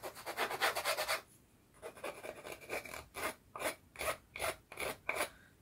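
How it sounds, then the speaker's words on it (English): A hand file rasping along the edges of small wooden craft blocks, close and distinct, in rhythmic back-and-forth strokes with a short pause partway through. "So I'm just carefully going to sand the edges."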